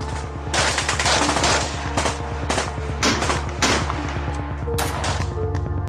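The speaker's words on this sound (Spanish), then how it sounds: "sonaron unos disparos" Rapid bursts of gunfire crackle continuously during a 2001 FARC guerrilla attack on Pijao, Quindío, dense overlapping shots with a few louder cracks standing out over a steady rumble.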